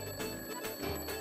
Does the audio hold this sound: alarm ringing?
yes